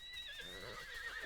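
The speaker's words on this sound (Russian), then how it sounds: "У нас тут огромная армия лошадей" Several horses whinny together in a video game herd, high neighing calls overlapping continuously at close range with no talking.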